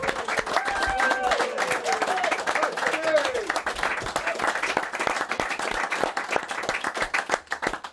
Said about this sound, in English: Give Judgy a big round of applause,